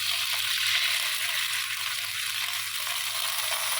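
Garlic frying in a pan for chicken wings as soy sauce is added, giving a steady, close, bright sizzle with a faint low hum underneath throughout.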